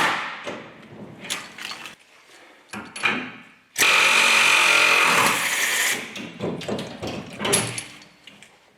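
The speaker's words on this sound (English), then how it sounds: "it's nothing an air hammer can't fix" An air hammer knocks leftover rivets out of a truck chassis in bursts of loud, rapid hammering, with a long sustained run in the middle, between short gaps and clanks.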